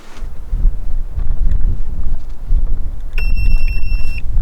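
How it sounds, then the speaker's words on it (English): Outdoors in the high desert, a battery-powered electronic device gives a single steady beep lasting about a second, heard clearly over rumbling wind noise. "there's the beep"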